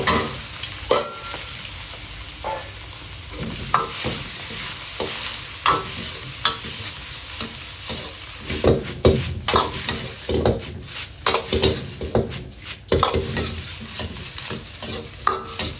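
Tofu, shallots and fresh shrimp stir-fry for pad thai, a continuous close sizzle broken by repeated sharp spatula scrapes and clanks against the pan.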